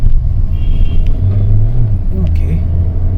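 A Hyundai Creta 1.4 turbo petrol with DCT gearbox accelerates hard from inside the cabin, its engine drone rising in pitch with a gear change midway, loud and close, with road rumble underneath.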